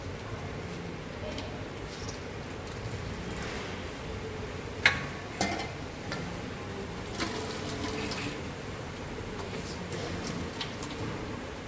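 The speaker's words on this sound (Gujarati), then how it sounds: "આ પાણી નિતારીને કાઢી લેવાનું." Water drains off grated bottle gourd being prepared for halwa, a quiet, continuous trickle broken by a few sharp clicks and knocks midway.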